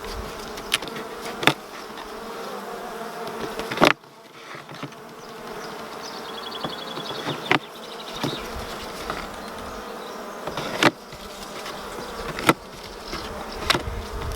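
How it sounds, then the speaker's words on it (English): A steady, close buzzing of many honey bees at an open beehive fills the whole stretch, with occasional sharp clicks and knocks cutting through. "There are bees up in here."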